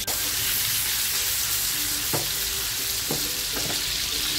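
Fish fries in a pan for biryani with a loud, continuous sizzle, broken by a few faint clinks and scrapes of a utensil.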